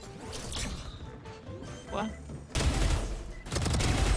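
Gunfire in a Valorant match, several loud broadband shots and bursts, the heaviest near the end, mixed under players' chatter.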